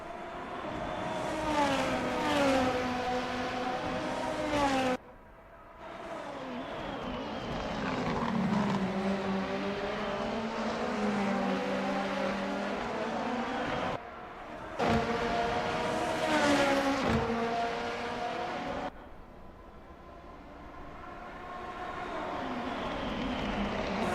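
Race cars lapping the Okayama circuit in a Formula racing video game, several engines whining and shifting in steady overlapping drones, with passes near and fading, loud throughout and no talk.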